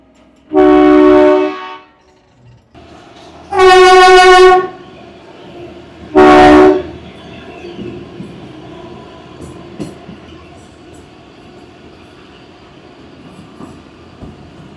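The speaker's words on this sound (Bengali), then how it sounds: "চলুন আমাদের ট্রেন ছেড়ে দেবে এবারে।" Kalka–Shimla toy train, the Him Darshan Express with vistadome coaches, departs with three loud, close horn blasts, the second longest. A low rolling rumble follows.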